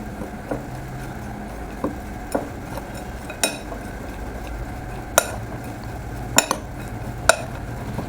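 A spoon stirring a granola mixture to coat it with oil, giving soft scraping under sporadic light clinks against the bowl, a few sharper taps near the end.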